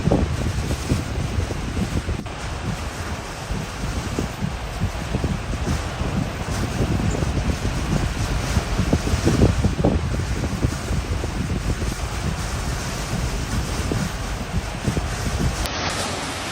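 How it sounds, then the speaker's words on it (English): Extremely strong wind blows over the sea during a storm, a loud continuous roar with heavy buffeting on the microphone and rushing surf beneath, with no voices. "The sand and water are blown up by the extremely strong wind like a mist on the sea surface."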